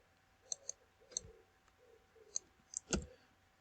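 Several sharp mouse clicks while working in Gantt chart software, scattered across the moment in a quiet room, with one louder click near the end.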